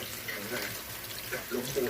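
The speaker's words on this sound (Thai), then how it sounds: "ล้างผักกันนะคะ" Tap water runs steadily into a sink while vegetables are rinsed in a home kitchen, a close, continuous splashing stream with faint sloshing near the end.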